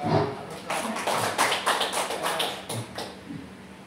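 An audience at an Indonesian teacher mentoring session claps together, a dense, steady round of applause that gradually thins out toward the end.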